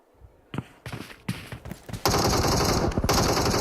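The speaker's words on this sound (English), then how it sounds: "Regnum Kaya still going strong with Loxy. Hitting these shots here" Rapid gunfire from a PUBG Mobile esports match, single shots at first, then a loud continuous burst of automatic fire with overlapping cracks and explosions, close and dense with no talking.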